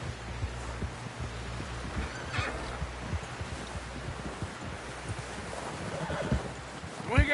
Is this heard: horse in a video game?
yes